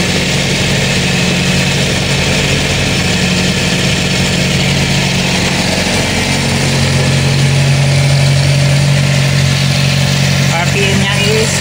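A car engine idles fast, above 1,000 RPM, with the cold start system still engaged, a steady droning hum held close throughout while someone speaks over it.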